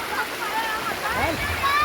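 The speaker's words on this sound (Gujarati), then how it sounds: "જો કેવી નદીમાં પાણી જાય છે" River water rushing and splashing steadily at a river bathing spot by a temple, with voices murmuring faintly over the flow.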